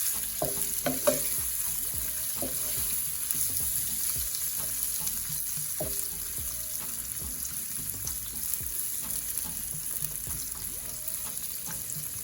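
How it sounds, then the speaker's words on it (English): Shrimp sauté in jerk seasoning in a pot, giving a continuous sizzle broken by frequent scraping and clinking stirs close by, with faint water-like splashes. No one speaks. "we're gonna allow this to saute for a few minutes"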